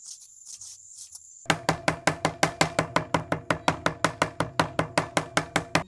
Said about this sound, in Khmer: រួចរាល់ហើយគឺខ្ញុំចាប់ផ្ដើមហាន់សាច់